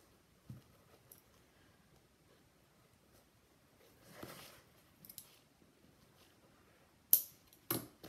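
Scissors snipping through cardboard in a quiet room, a few sparse cuts followed by two sharper, louder snips near the end.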